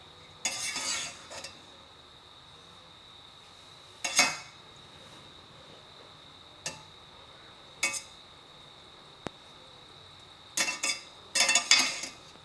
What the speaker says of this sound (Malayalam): നമുക്ക് പതുക്കെ ഒന്ന് മിക്സ് ചെയ്ത് കൊടുക്കാം.